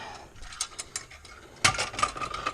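Ratchet clicks sound while a bolt is removed from the heater core area of a 79–86 Foxbody: sparse, light clicking at first, then a louder, denser burst of ratcheting, close by with no talking.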